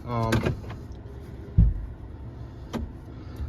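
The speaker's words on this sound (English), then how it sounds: "we'll get in the truck here" A pickup truck door opens and shuts with a heavy thump, followed by a lighter second clunk, preceded by a brief whirring mechanism; short and close, with no talk.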